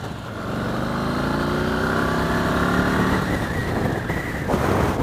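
2015 Yamaha Star Raider motorcycle engine on a test ride, a loud close drone that climbs steadily in pitch as it winds out, then drops briefly around a shift before pulling again, with no talking.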